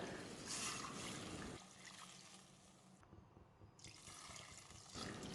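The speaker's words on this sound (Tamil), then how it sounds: "நல்ல 3 கப் அளவுக்கு தண்ணி சேர்த்துக்கோங்க." Water pours steadily into a cooking pot for mutton thakkadi, about three cups, with a gushing splash, pausing briefly mid-pour before resuming, close and fairly quiet.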